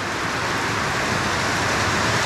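Heavy, dense rain pours steadily at a cattle-fattening farm, a continuous close hiss of drops drumming on surfaces with no gaps and no voices.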